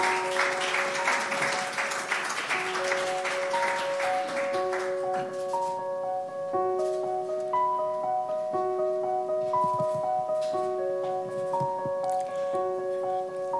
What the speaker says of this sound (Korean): 큰 박수로 환영해 주시면 고맙겠습니다